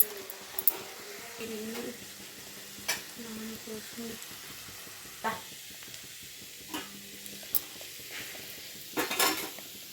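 Potato fry cooking in a pan, seasoned with salt, chilli and coriander powder, gives a soft sizzle broken by sharp spatula clinks and scrapes against metal, with faint background sounds and no clear talk.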